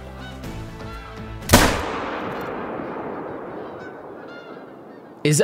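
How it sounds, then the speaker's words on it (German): A single loud rifle shot at a hare rings out in theHunter: Call of the Wild, its sharp crack followed by a long rolling echo that fades slowly, with honking bird calls in the ambience just before. "Den schieße ich halt in Po."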